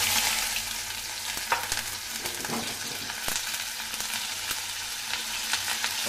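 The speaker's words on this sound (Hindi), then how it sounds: "अब हमने इसमें प्याज डालना है" Onions fry in a hot pan for a quick Himachali vegetable dish, with a steady close sizzle, crackle and occasional stirring scrapes running throughout and no voices.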